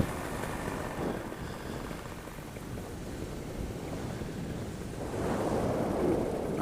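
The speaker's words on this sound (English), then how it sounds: "Oh yeah, funky winds." Gusty wind roars steadily across the microphone during a paramotor flight over the Superstition Mountains, with the engine throttled to idle, swelling louder in the last couple of seconds.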